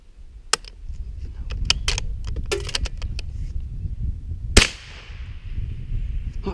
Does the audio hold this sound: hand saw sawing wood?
no